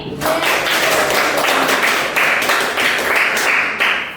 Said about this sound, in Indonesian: Tepuk tangan untuk Mbak ini